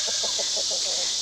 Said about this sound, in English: we're just checking on the chickens